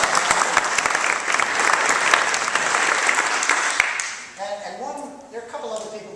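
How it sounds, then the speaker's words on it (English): Audience applause at a talk or civic gathering, a dense steady wash of many hands clapping for about four seconds before it thins out and a voice speaks over the fading claps. "And while you're applauding"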